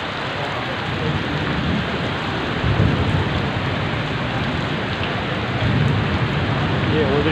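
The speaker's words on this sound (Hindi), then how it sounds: "खौफनाक गरज चमक शुरू है।" Heavy rain falls steadily during a thunderstorm in a heat wave, making a dense hiss with low thunder rumbles swelling at moments. Nothing else breaks through.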